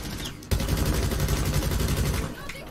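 Rapid gunfire from Rainbow Six Siege ranked play, a dense burst lasting about two seconds at close range, with some talk mixed in.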